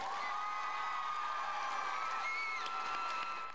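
Crowd at a Cops for Cancer fundraiser applauding and cheering while friends shave a woman's head, a distant, faint mix of clapping, whoops and raised voices over a steady hum.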